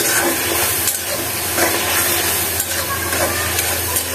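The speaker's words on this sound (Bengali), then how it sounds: "এরপরে এই যে কষাতে হবে।" Shrimp and vegetable stems sautéing in a hot pan give a steady, close sizzle and hiss that runs without a break, with small crackling bursts scattered through it.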